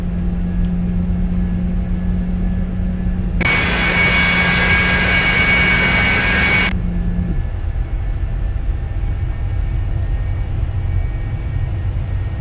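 Engine thrust from a Cessna Citation business jet in X-Plane 11, a loud broad roar that swells in abruptly over a steady low cockpit hum, holds for about three seconds, then cuts off.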